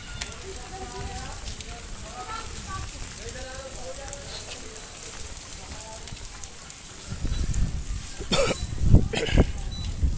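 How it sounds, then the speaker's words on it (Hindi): Steady rain of the first summer shower patters and hisses on a village street near Lahore, with a few voices talking faintly underneath and some louder knocks and thumps close by toward the end. "ਗਰਮੀਆਂ ਦੀ ਪਹਿਲੀ ਬਾਰਿਸ਼ ਹੈ"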